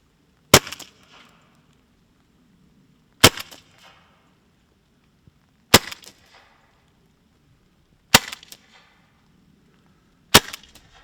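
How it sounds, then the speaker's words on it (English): An Umarex HDR revolver with a modified pin fires five evenly spaced sharp shots through a chronograph, each a loud close crack with a short fading rattle, separated by quiet gaps of about two and a half seconds. "We'll fire it through the chrono and see what numbers we can get."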